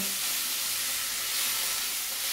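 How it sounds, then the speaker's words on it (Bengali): Onions with ginger and garlic paste fry in a hot pan, giving a loud, steady, close sizzle and hiss with no pauses. "এবার পেঁয়াজের সঙ্গে ভালো করে আদা রসুনটাও ভেজে নেব।"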